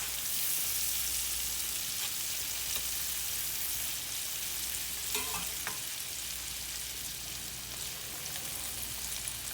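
Cabbage pieces for a garlic Parmesan salad sizzle and crackle steadily in a frying pan while being mixed, a dense continuous fry with occasional scraping of the spoon, no voices.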